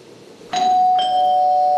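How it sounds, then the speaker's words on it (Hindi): A two-note electronic doorbell chime, ding then dong, with the second tone ringing on and lingering, loud and close. "जो पहली डोरबेल की आवाज आएगी"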